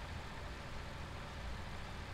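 Massey tractor engine in Farming Simulator 17, a steady low drone held at constant revs, faint and continuous with no voices.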